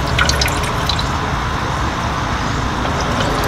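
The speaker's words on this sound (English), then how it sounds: "You're sucking the water up into the top of that." A steady watery trickle and drip runs alongside a low mechanical hum, a portable ice maker pumping water up into its top, continuous and close.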